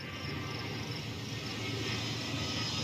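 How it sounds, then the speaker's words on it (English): Aircraft engines in the airport-management game Airport CEO, as big planes arrive: a steady, continuous drone with a broad airy roar and faint high whine, unbroken for the whole stretch, with no talk over it. "We should see some big planes arriving soon."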